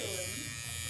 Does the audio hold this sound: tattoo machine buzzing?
yes